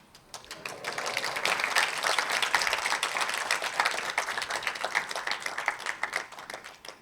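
Audience clapping during a spiritual lecture: many hands clapping in a steady, dense rhythm that swells and then fades toward the end, with sharp individual claps standing out near the close.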